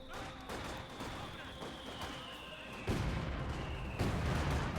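Tank cannon shots against a Panther in a Company of Heroes 2 battle, two heavy booming reports landing a second apart over a dense rumble of battle noise and layered gunfire.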